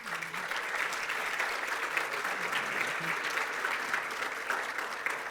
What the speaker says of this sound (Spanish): Y yo les pediría un aplauso para los ponentes.